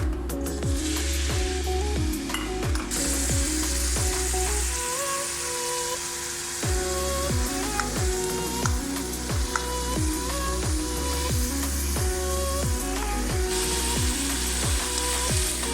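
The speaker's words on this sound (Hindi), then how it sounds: "छोटा 1 कप मैंने घी का ऐड किया है, ये गर्म हो चुका है। अब इसमें प्याज शामिल कर दें।" Onions hit hot ghee for baingan bharta, a loud continuous sizzle with crackling pops running throughout, alone without voices.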